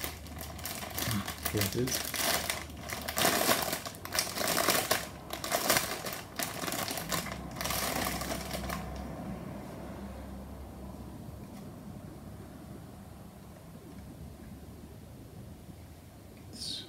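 Crinkling plastic and rustling packaging as an Aoshima/Beemax 1:24 Toyota Celica GT-Four ST165 model kit box is opened, loud close bursts that fade to quiet room hiss; someone speaks briefly.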